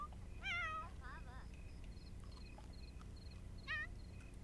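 Cats in The Sims 4 meowing several times in short, wavering calls, faint over a steady low game background hum with tiny electronic tones.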